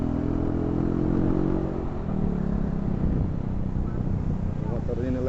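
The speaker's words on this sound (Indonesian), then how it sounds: "Motor ini Lexi" A Yamaha Lexi motor scooter, slightly modified, hums steadily while riding a mountain road near Puncak, its engine drone and wind noise running continuously under someone talking.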